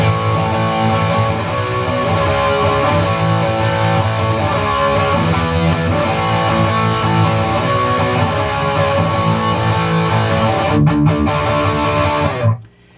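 A heavily distorted electric guitar chugs through a driving riff, loud and dense, ending abruptly after about twelve seconds.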